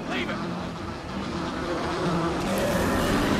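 In the video game Dead Rising 3, a swarm of mutated bee kings gives off a continuous insect-like buzz that holds steady and slightly swells, with no voices over it.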